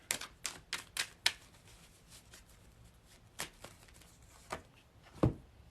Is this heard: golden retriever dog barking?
no